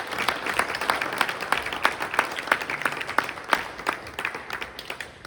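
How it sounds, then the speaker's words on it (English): An audience at a small community politics Q&A session breaks into steady, continuous applause after a guest speaker, many hands clapping densely and fairly close throughout. "Let's give him a round of applause."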